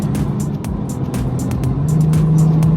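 A BMW F30 340i accelerates with a rising engine drone, its pitch climbing steadily toward the end, while intermittent clicks and knocks from inside the cabin punctuate the sound.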